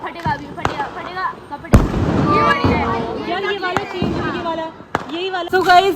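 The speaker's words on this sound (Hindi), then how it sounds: "आज हम थोड़े बहुत पटाखे फोड़ रहे हैं" Diwali firecrackers burst outdoors in sharp, loud cracks scattered through the stretch. Excited voices talk and shout between and over the bangs.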